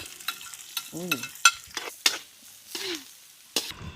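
Ginger, garlic and onion sautéing in a pan, with a soft sizzle under scattered stirring scrapes and spoon clinks, close and fairly quiet.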